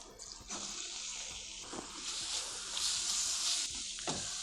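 Jackfruit sautés in ghee with a steady bright sizzle, broken by a few stirring scrapes and knocks in the pan.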